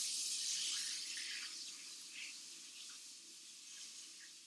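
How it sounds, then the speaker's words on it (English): A trumpet tuning slide is rinsed under a running tap, giving a steady close hiss of flowing water that slowly eases off. "And we rinse."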